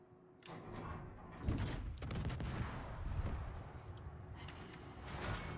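Warship main guns firing shells in World of Warships, a series of heavy booming blasts with rumbling echoes spread across the stretch, fairly faint overall.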